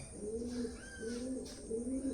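Tumbler pigeons being watered coo close by in three rolling, throaty phrases with short gaps between, over a faint, quiet background.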